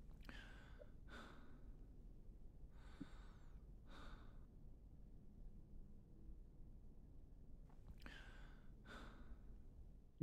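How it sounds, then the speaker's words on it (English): In the stealth video game Hitman: Blood Money, Agent 47 hides in a closet and breathes heavily, a soft series of separate breaths and gasps spaced a second or two apart over a quiet background. "You can hear 47's breathing when he's in the closet"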